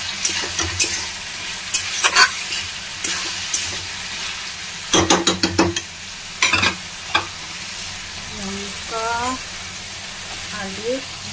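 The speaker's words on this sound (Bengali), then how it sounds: "দেখো চলছে এখন মাংস কষানো।" Meat is stir-fried (kosha) in a pan, with a steady sizzle and repeated sharp scraping strokes from a spatula, plus a few brief clinks and water-like sounds.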